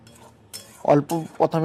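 A metal utensil clinks and scrapes against a pan while tomato and spices are stir-fried with a little water, a few close, sharp ringing knocks after a quiet start.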